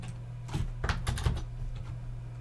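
Password being typed on a computer keyboard: a short run of crisp, fairly close key clicks with uneven spacing over a low steady hum.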